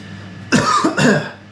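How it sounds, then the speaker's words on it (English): Two quick, close coughs in succession over a faint background hum. "just got a bit of a cough as well"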